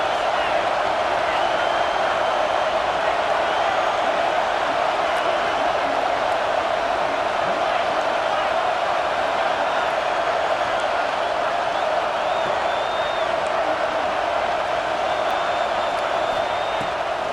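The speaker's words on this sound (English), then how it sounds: "The Buckeye crowd alive on third down." Steady roar of a Buckeye football stadium crowd during an Ohio State versus Alabama game on third down, a dense continuous wash of cheering with an announcer talking over it.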